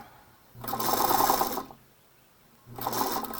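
A sewing machine sews a quarter-inch seam in two bursts of rapid stitching, about a second each, separated by a short pause, close and fairly loud.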